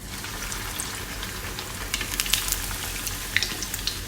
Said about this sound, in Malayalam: അപ്പോൾ നമുക്ക് ഇനി ബ്രെഡ് പീസസ് ഇട്ട് കൊടുക്കാം.